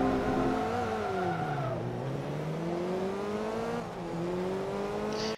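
A VW Golf 2 racing around the Mugello circuit in Forza Motorsport 2, its engine droning steadily and rising and falling in pitch through gear changes, with no talk.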